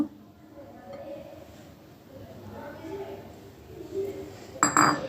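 Egg being worked into flour in a bowl for Jaal Chicken Patishapta batter gives soft clinks and scrapes under a talking voice, ending in a brief louder clatter.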